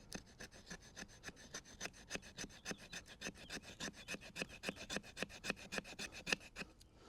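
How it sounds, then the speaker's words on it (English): The 90-degree ground spine of a CPM 3V steel bushcraft knife scrapes along wood in a brisk, even series of about forty rasping strokes, close and fairly quiet with no talk. "So let's just see how it does with scraping too."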